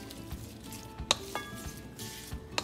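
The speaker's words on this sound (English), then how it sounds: "Our paneer is fried and ready to be added in the sauce mixture. Mix and toss it well." Fried paneer being tossed in chilli sauce in a pan, with soft sizzling and a few sharp clinks of utensil on metal, close and fairly quiet, no voices.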